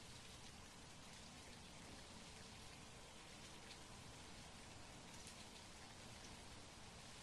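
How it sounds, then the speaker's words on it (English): Steady rain falls outside, a dense, even patter of drops on surfaces that holds at a constant low level for the whole stretch, with no voices over it. "Oh, it's raining outside. It's loud enough that I can hear."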